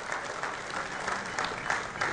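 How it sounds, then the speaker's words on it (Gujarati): An audience at a police felicitation ceremony in Sanjeevkumar Hall, Surat, claps steadily and evenly, a dense, fairly soft patter of many hands with no voices over it. "આપણે જોરદાર તાળીઓથી સૌનું આ સમર્થ માટેનું અભિવાદન કરીએ."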